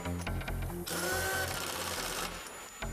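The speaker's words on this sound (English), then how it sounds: "Snug the lug nuts down, following the recommended manufacturer's torque sequence." A power tool rattles and whirs in short bursts as lug nuts are snugged down on a truck wheel, with a sustained higher-pitched spin in the middle of the clip; loud and close, no talking.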